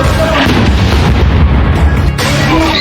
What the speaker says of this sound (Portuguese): escutam-se tiros de bazuca e rajadas de metralhadora.